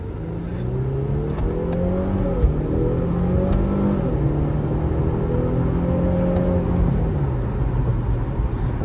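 A rear-wheel-drive car's engine revs and accelerates on a highway, its pitch climbing and falling in repeated surges over a steady roar of road noise, loud and close throughout.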